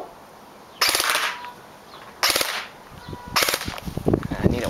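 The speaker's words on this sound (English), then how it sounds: "and I'll show you 3-round burst." A D|Boys SCAR airsoft electric gun fires three separate short bursts, each a sharp, loud crackling rattle lasting about half a second, with quieter mechanical clicks and noise in between.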